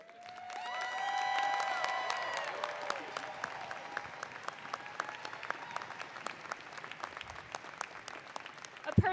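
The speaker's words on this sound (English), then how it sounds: "I want you to give her all a huge round of applause." Warm applause with some cheering rises from a large university fall commencement audience, swelling early and then continuing as steady, crisp clapping with a few louder individual claps near the end.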